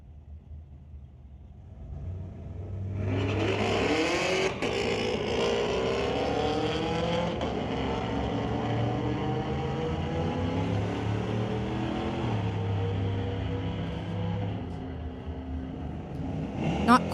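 A 2017 Camaro and a 2008 Chevy launch side by side in a street-legal drag race at Mission Raceway Park, engines roaring up loud and sustained through rising gear changes as the cars pull away, with faint commentary underneath.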